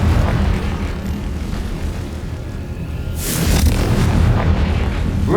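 A Confringo fire spell blasting in Hogwarts Legacy, heard as a deep rumbling roar with a bright whooshing burst partway through that swells into a louder, sustained boom.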